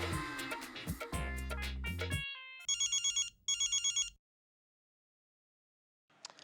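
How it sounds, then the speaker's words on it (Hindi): A telephone rings in two bursts of rapid electronic trills, loud and clear, with a brief pause between them, right after a stretch of loud music. The line falls silent after the rings, and a faint sound returns near the end. "अय्यर लंदन से सुमित्रा काकीमा का फोन है।"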